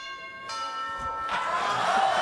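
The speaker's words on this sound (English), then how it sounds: "Oh! The doorbell." A doorbell chimes with bright, sustained ringing tones that overlap and linger, fairly close, with a brief noisy swell partway through.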